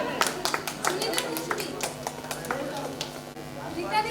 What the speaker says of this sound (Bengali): দুজনের জন্য ডবল ডবল হাততালি